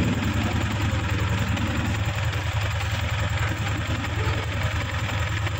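A Yamaha Sniper 155 motorcycle engine idles steadily at close range, a continuous low throbbing rumble with no voices.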